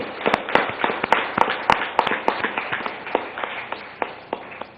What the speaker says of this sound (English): So let's give a round of applause to all the elected companies